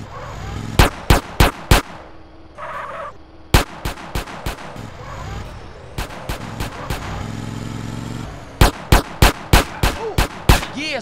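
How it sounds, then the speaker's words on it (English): Gunfire in Grand Theft Auto: San Andreas, loud close bursts of sharp shots in quick groups of three to five, separated by brief pauses, with a short whistling or shouting sound between volleys. "That's a gun."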